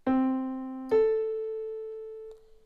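Two clean synthetic tones sound one after the other, the second higher and held, forming a major sixth interval, each with a sharp onset and slow steady fade, alone.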